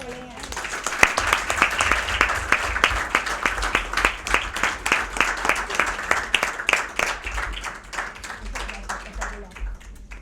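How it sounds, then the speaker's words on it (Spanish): An audience applauds four ambassadors at the close of a formal event on ALBA integration, a dense, sustained wash of many hands clapping that runs steadily for about ten seconds before slowly thinning. "os pediría que le diéramos un aplauso a los 4 embajadores"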